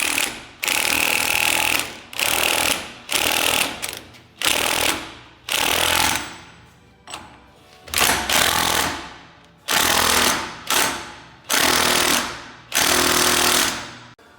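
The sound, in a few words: impact gun driving home nut on Jeep Gladiator yoke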